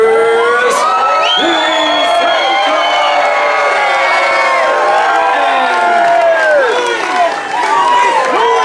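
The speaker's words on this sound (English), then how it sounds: "round of applause, the Mercedes drivers." A crowd at the 2017 Monaco Grand Prix cheers for the Mercedes drivers: loud sustained shouting and whooping, high voices among them, with scattered clapping mixed in and a loud, steady level throughout.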